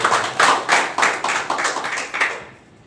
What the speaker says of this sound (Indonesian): Mari kita beri tepuk tangan bagi Tuhan.